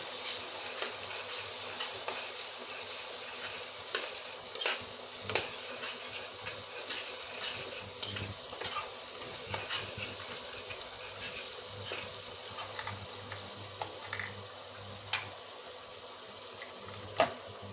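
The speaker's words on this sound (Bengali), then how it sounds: "এখন আমি সুন্দর করে নেড়ে নেব" Chicken curry with chili sizzles quietly in a pan while a spoon stirs it, with soft scraping and clinking of utensil against metal at irregular moments over a steady frying hiss.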